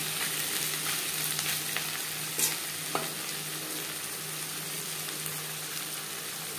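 Fish roe and onion frying in a little oil, with a steady close sizzle throughout and a few brief stirring scrapes of a utensil in the pan.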